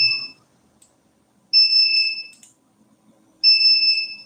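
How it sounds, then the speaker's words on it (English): Three sharp electronic beeps, each lasting about a second with pauses between, loud and close in a quiet room. "This is why beep sound is coming out."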